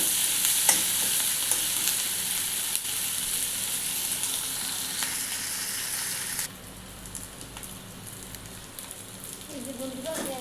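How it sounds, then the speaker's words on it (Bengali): Chopped onions sizzle and crackle steadily in hot oil in a pan for chicken curry. The frying stays loud and continuous, then drops a little quieter partway through, with faint stirring and no talk. "ভাজা ভাজা লাল লাল করে একটু ভেজে নেব"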